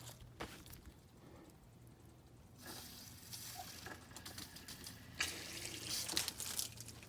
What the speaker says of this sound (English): That's a leak.